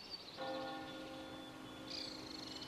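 Church bells ring across the fields of Normandy, France, sounding quiet and distant with sustained, shimmering tones that swell and overlap.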